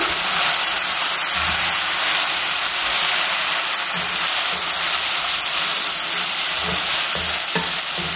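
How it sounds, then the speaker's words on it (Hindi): Ginger garlic paste hits golden-brown fried onions in a pan for a beef kofta curry, giving a steady, loud sizzle and frying hiss with soft stirring scrapes throughout, close by, with no talk. "अब इसमें मैं डाल दूंगी 2 टेबल स्पून अदरक लहसुन पेस्ट। मिक्स कर लेंगे।"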